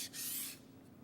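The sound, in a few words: knife blade rubbed flat on a sharpening stone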